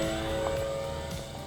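An RC airplane flies under throttle alone, giving a faint, steady propeller buzz with a thin motor whine held at a constant pitch throughout.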